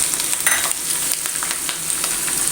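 Garlic, ginger and green chili frying in a pan for beetroot date pickle, a loud, close, continuous sizzle with stirring scrapes throughout.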